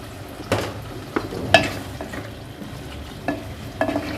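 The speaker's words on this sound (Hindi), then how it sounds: "इसको एक दफ़ा अच्छे से हिला दें" An aloo matar gajar curry with potatoes and fenugreek sizzles steadily in a pan, while a spoon scrapes and stirs it in several distinct strokes, close up and alone with no voices.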